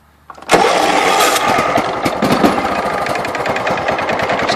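A John Deere LT133 lawn tractor engine cranks briefly, catches, then settles into a steady, close, loud running chug.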